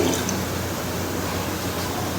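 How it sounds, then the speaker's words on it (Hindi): Water poured into a pot of rice makes a steady, moderately loud splashing pour that continues without a break from start to end, with no talk over it. "सो हम थोड़ा पानी और डालेंगे,"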